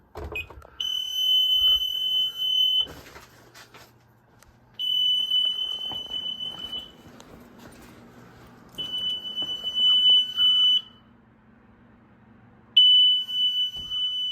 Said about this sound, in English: Let's go and do the medical test on this keypad.